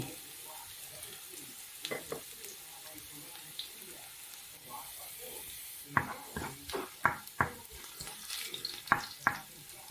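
Chopped garlic fries in a pan for a chicken liver adobo. A soft, steady sizzle runs underneath, with a run of sharp clicks and clatters near the end as a utensil scrapes and stirs against the pan.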